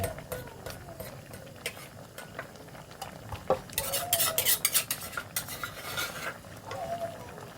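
Curry paste being stirred into a pot for a pickled bamboo shoot curry with catfish, a spoon scraping and clinking against metal amid faint sizzling, the stirring growing busier partway through.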